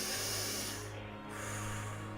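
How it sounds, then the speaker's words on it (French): A single slow, soft breath, airy and hissing, drawn out close to the ear with a brief dip in the middle, quiet and alone. "Une respiration."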